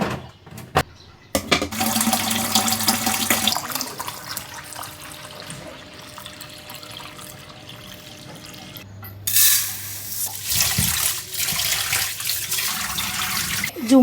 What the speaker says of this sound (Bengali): একটা ফিল্টার ধুইতে 20 থেকে 25 মিনিট সময় লাগলো